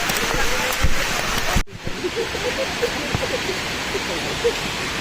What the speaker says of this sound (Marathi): परतीच्या वाटेला मुसळधार पाऊस भेटलेला आहे.